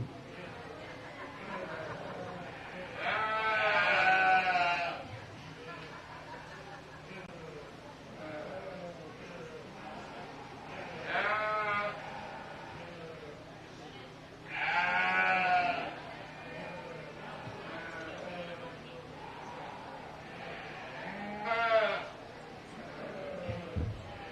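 Sheep bleat at a 4-H livestock show: several loud, wavering calls come at irregular intervals over a steady murmur of crowd chatter and an announcer's voice in a large hall.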